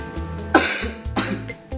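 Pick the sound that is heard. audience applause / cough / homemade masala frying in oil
cough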